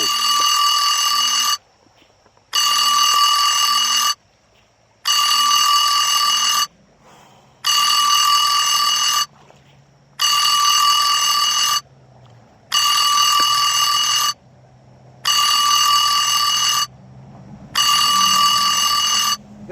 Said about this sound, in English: there's my alarm